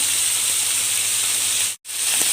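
Garlic and liver frying in hot oil, a loud, continuous hiss that cuts out for a moment and then returns.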